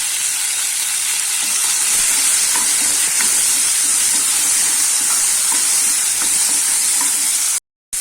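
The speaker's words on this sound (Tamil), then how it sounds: "தக்காளி நல்லா வதங்கட்டும்" Tomato and onion sauté in a hot pan for idli sambar, a loud, continuous sizzle and hiss with faint stirring ticks, close up and without speech, cutting out briefly near the end.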